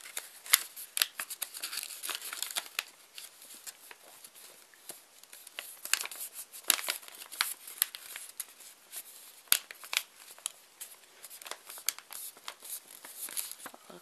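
Paper being creased and folded by hand while making an origami rose, a steady run of crisp crinkles and sharp papery snaps, close and fairly quiet, with no talking.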